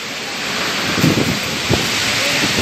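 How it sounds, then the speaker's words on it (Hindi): Strong, steady wind roars through an open outdoor setting in Delhi during a hailstorm, a continuous broadband rush with a few heavier gusts and brief thuds partway through, close and loud, with no talk over it. "हाँ तो हवा भी ऐसे भयंकर चल रही है।"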